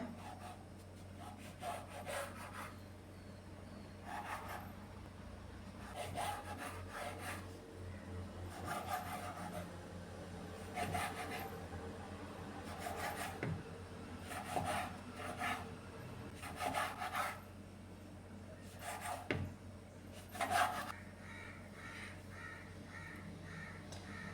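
A knife cuts rolled dough into diamond shapes, giving faint, repeated scraping strokes on the board at an uneven steady pace with short pauses between cuts.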